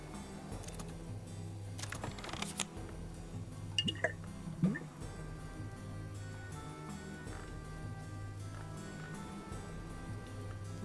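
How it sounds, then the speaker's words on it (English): Water pouring into a glass in the video game Book of Hours, a soft liquid trickle with a few drips over a steady musical background. "but I could pour a glass of water."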